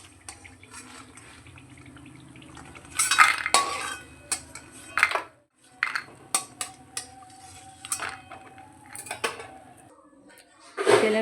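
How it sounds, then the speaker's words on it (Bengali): Fried lentil dumplings (bori) being lifted out of a pan of oil, with a series of intermittent metallic scrapes and clinks of a utensil against the pan over faint background sizzle. "বড়িগুলো এবার তুলে নিচ্ছি।"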